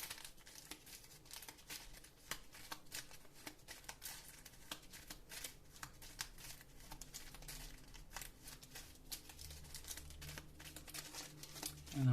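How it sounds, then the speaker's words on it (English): A deck of cards from the Marvel Champions card game is shuffled, giving soft, continuous papery riffling and crinkling close by, faint and without speech. "And I'm shuffling his deck now"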